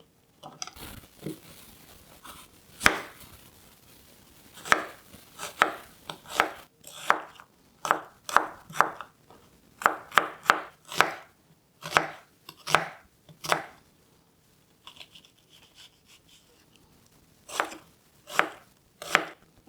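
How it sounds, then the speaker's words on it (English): An onion is chopped into small pieces with a kitchen knife for a simple Iranian stew, giving a steady run of crisp, close knife strikes on a board, bunched in quick rhythmic bursts with short pauses between. "just cut our onion in a small pieces"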